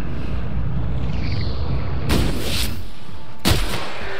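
Two loud, separate gunshots in The Outer Worlds sci-fi shooter game, about a second and a half apart, cracking over a steady rumbling background.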